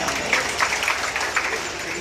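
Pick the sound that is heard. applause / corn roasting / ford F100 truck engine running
applause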